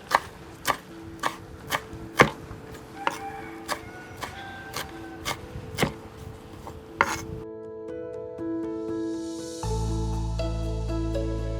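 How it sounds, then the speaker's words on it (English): A knife chops celery and parsley into smaller chunks on a board, sharp regular cuts repeating close up; after the chopping stops, a steady mechanical hum takes over. "So what I will do now is to cut them into smaller chunks."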